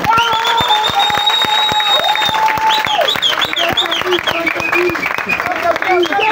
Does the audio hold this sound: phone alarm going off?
no